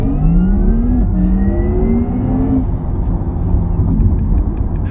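A Porsche Taycan Turbo S electric car accelerating hard, its steady electric whir rising in pitch with two upward sweeps, loud and close throughout with no talk.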